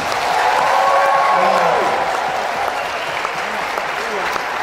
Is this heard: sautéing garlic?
no